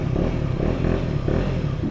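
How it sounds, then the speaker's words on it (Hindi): A KTM Duke 250 motorcycle fitted with an aftermarket exhaust idles and burbles close by, a loud, steady low rumble with slight rhythmic pulsing throughout and no talking. "जैसा कि हमारे सामने है एक ड्यूक 250, तो जो साउंड आप सुन रहे हो वो साउंड मैं आपको बताऊंगा"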